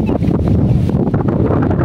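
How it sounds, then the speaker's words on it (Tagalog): Strong wind buffets the microphone at sunset in the mountains, a loud, continuous roaring gust with no pause. "Grabe yung lakas ng hangin."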